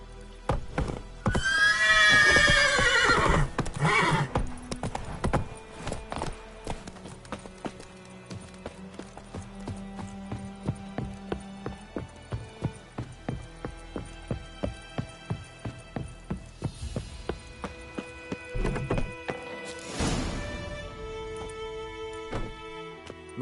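Roach the horse in The Witcher 3 video game, opening with a loud whinny, then steady galloping hoofbeats in a quick repeating rhythm and a second neigh near the end, with game music underneath and no talking.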